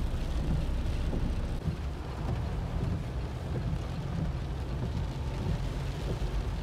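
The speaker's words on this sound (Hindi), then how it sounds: "बारिश हो रही है यहाँ पे भी बहुत तगड़ी।" Heavy rain pours steadily in the mountains near Tehri Dam, a dense continuous hiss with low rumbling that may be distant thunder, with no voices.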